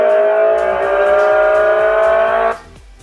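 Ola S1 Pro electric scooter's synthetic Bolt mode ride sound effect, a loud, sustained droning tone that holds for a couple of seconds and then cuts off abruptly, followed by faint low rumbling.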